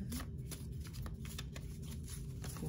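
Tarot cards shuffled and drawn by hand, a steady, close riffling and flicking of cards that runs without a break over a low, constant room hum, with no talking.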